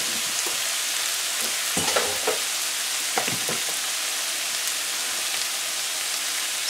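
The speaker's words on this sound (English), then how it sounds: "And now in goes our black eyed peas." Black-eyed peas tipped into a hot pot of oil, frying with a steady, dense sizzle and a few louder crackling bursts as they hit, no voices over it.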